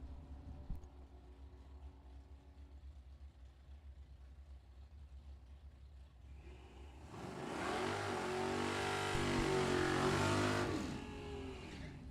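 Drag racing Camaros launch down the track at a Super Pro and Pro Eliminator event, a distant engine roar swelling into a loud, sustained high-revving rush before fading slightly.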